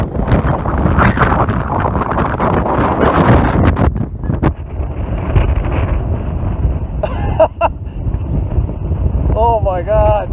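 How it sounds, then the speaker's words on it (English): Strong gusting wind roars across the microphone outdoors in a steady loud rumble, with excited voices talking and shouting over it. "Look at this crazy wind"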